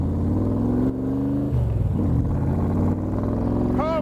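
A 1965 Shelby Cobra roars loudly and steadily as it drives off, its engine note holding strong and close throughout, with a brief rising whine near the end.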